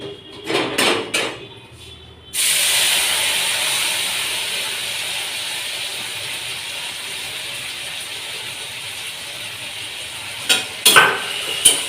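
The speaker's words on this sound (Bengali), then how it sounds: "তেলের মধ্যেই ডাল ভেজে বসিয়ে দিলাম" Lentils hitting hot oil in a home kitchen pan: a few clattering knocks, then a sudden loud, steady sizzle and hiss that holds for several seconds, ending with more scraping clatter of utensils.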